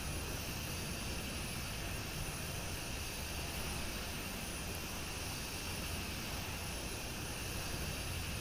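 The jet engines of a Dassault Falcon 50 business jet in a flight simulator game give off a steady, even roar, with no talking over it.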